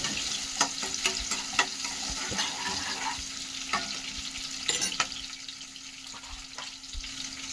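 A ginger and garlic spice paste for snail curry fries in a pan with a continuous sizzle, punctuated by scattered pops and spatters and faint scraping as it is stirred; no voices.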